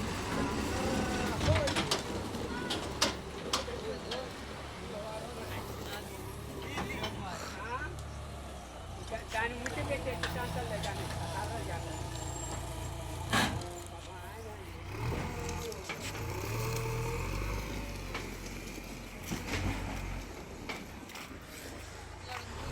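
A JCB excavator drags an empty tipper truck through soft, muddy ground, its diesel engine rumbling steadily with clanks and mechanical knocks, engine revs rising and falling throughout.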